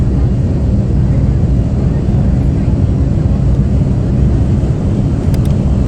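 Twin ATR turboprop engines in the Prepar3D flight simulator spool up for takeoff at Barcelona, a steady, loud broadband drone with a deep low rumble that holds constant throughout.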